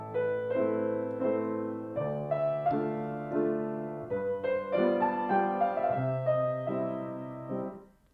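Solo piano plays the right-hand melody of a Chopin waltz: a sustained, pedalled line of chords and melody notes in steady three-beat phrases, close and clear, with no talking.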